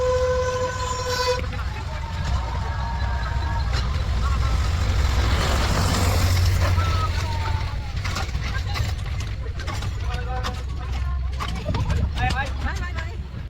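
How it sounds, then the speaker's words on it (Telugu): A toy train at Bal Bhavan in Cubbon Park, Bangalore, rumbles past with a sustained whistle toot at the start, rolling clatter and crowd voices all around, people talking throughout. "అందులో ట్రైన్ వస్తా చూడండి"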